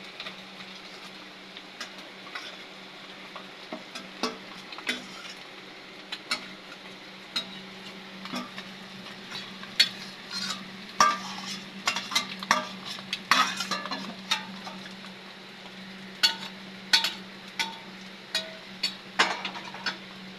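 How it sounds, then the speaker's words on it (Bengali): Food fries and is stirred in a pan, a soft steady sizzle under frequent light scrapes and clicks of a utensil against the metal, fairly quiet with no talking. "একটু ভালো করে ভেজে নিব।"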